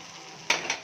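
Washed, soaked flattened rice tipped into a pan of upma seasoning, giving a sudden soft sizzling rustle at the end after a quiet stretch, with a second brief burst of sizzle.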